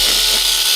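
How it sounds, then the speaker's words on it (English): A chainsaw cuts into a fire-resistant jacket material in a brief, harsh burst of loud, high-pitched grinding and ripping, close and with no voices. "like a chainsaw."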